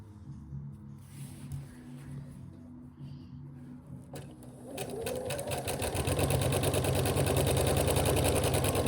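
A domestic sewing machine chain-pieces quilt fabric pieces, right sides together. It starts as a low, intermittent whir, then settles into a loud, steady, rapid stitching hum with no talk.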